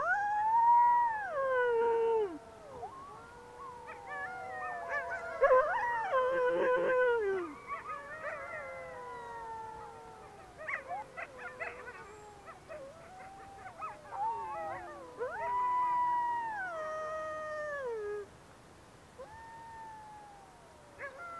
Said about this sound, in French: Les loups hurlent pour exprimer toute la gamme de leurs émotions